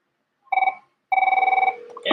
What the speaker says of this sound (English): Incoming call.